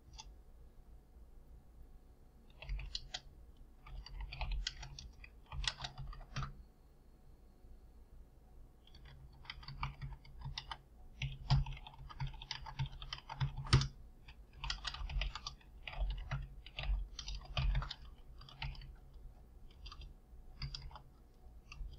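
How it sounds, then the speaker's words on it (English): Quick bursts of keystrokes on a computer keyboard during network configuration work, close and crisp, in several runs separated by short pauses, with no talking. "Typing too fast."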